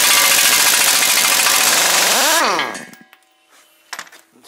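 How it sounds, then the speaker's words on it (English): A big 3/4-inch drive impact wrench removes fittings with a loud, sustained rattling hammer for about two seconds, then spins down and stops, followed by a few faint clanks. "Got the big 3/4 drive rattle gun out."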